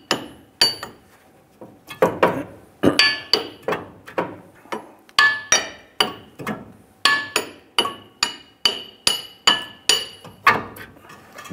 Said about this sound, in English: we're gonna go ahead and tap our key onto the torsion bar